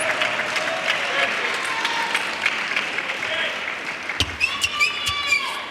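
Applause and cheering from the England team bench at a men's table tennis Team World Cup quarter-final against Brazil, steady clapping from a small group under a commentator's talk, with sharper bursts near the end.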